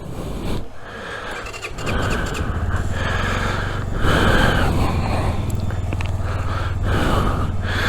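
A Brixton 125 motorcycle engine from 2021 idles and then runs steadily up close, a loud continuous low rumble that settles into an even drone.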